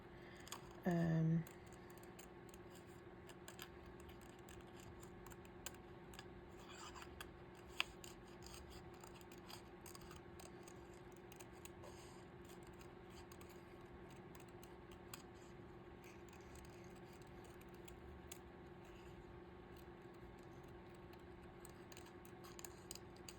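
Scissors snipping closely around a stamped paper image, a long run of small, quiet cuts with soft clicks spread across the whole stretch, near and faint over a low room hum.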